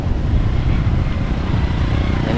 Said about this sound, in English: Wait, look, there's a motorbike coming.